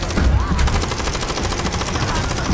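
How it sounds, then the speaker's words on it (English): A submachine gun fires in a zombie movie scene, giving a loud, continuous burst of rapid shots that stays dense and unbroken throughout. "Without hesitation, Mantle opened fire again."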